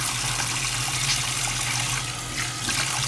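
Water from a tap runs steadily as deep conditioner is rinsed out of hair, making a continuous close hiss and splatter with no pauses.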